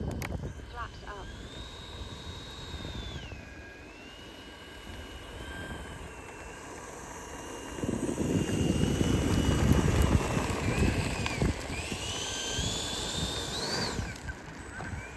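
An FMS 70mm Viper RC model jet with an electric ducted fan flies overhead, its whine rising and falling in pitch as it passes. Wind rumble grows loud partway through, and a person talks intermittently under it.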